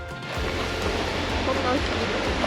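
The Choshi waterfall near Mount Ishizuchi in Niihama, Ehime, gives a steady, full rushing roar of falling water, constant and close, with possible talk beneath it.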